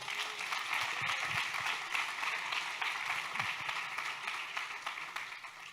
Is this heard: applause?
yes